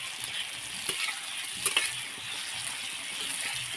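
A vegetable dish sizzles on an iron griddle, a soft continuous frying hiss with a few light scraping and clinking stirs of a utensil, close but fairly quiet.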